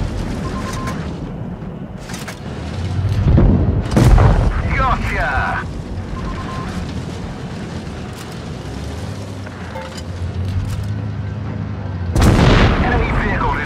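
An enemy tank is destroyed in WoT Blitz gameplay, bringing deep booming explosion bursts and rumbling impacts amid continuous game sound effects, with a couple of loud blasts standing out.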